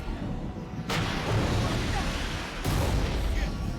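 Rocket launcher fired in a video game during a boss fight against a clawed enemy, two heavy booming blasts with a long rumbling roar that fills the mix.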